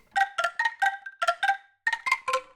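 Angklung single hits from the Orchestral Tools Sangara sample library: a quick run of about a dozen bright, hollow, rattling bamboo strikes in a lively pattern, moderately quiet and alone.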